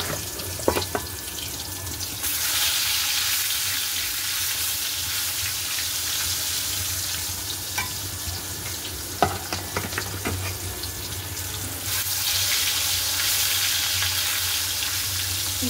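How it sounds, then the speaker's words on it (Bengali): Fish frying in hot oil in a wok, a continuous loud sizzle with a few sharp clinks of a utensil, the hiss swelling after fish are added. "আর এদিকে মাছের তেল মানে মাছ ভাজবো, তার জন্য আর কি কড়াইতে তেল দিয়েছি।"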